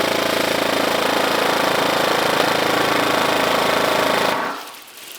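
A CYMA FN MK16 SCAR-L airsoft rifle, a high-speed model, fires full auto in one continuous rapid buzzing burst of about four seconds, loud and close, before the trigger releases.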